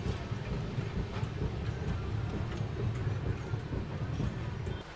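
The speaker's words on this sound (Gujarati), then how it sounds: "આપણી ટ્રેન અરાઈવ લઈ રહી છે વાંકાનેર જંકશન રેલવે સ્ટેશન પર" Train pulling into Wankaner Junction railway station, a steady low rumble of wheels and carriages rolling on without a break, with no voices over it.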